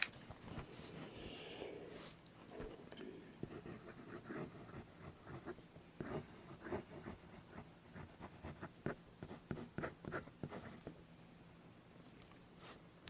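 A fountain pen scratches and glides across thin, smooth Tomoe River paper in a quiet room, with soft irregular strokes and taps that cluster into quicker bursts toward the end, close and faint.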